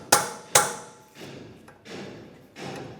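A hammer drives a chisel against the ears of a BMW X3 ball joint to break it free: two sharp metallic strikes ring out, followed by several duller, softer thuds, close by and with no talking.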